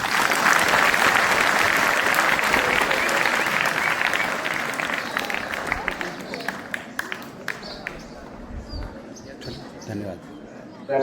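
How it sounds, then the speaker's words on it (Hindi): Audience applause fills a school prize-giving ceremony, loud and sustained at first, then thinning into scattered individual claps as it fades out. "ताली बजाओ, ताली बजाओ।"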